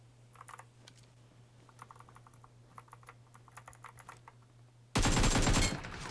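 Gunfire in a solo-versus-squad battle royale shooter: a loud, dense burst lasting about a second near the end, after a stretch of quiet clicking keyboard taps and faint game sounds.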